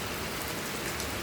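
Steady rain pours down on a June day with thunder weather, a dense, even hiss of drops hitting surfaces, close and continuous with no talk.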